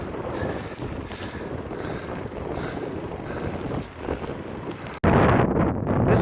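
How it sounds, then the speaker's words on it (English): A northeast headwind buffets a cyclist's microphone on a rural Indiana road near Huntertown during the Trans Am Bicycle Race: a loud, continuous rumbling roar that shifts abruptly near the end. "This is the headwind I'm riding into."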